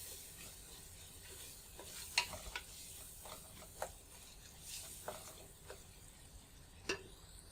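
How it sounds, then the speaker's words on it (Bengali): Spoon stirring turmeric and spices in a pot for camel meat kabsa, quiet irregular scrapes and clinks with a soft sizzle underneath. "এগুলো দিয়ে আমি একটু মিক্স করে নেব"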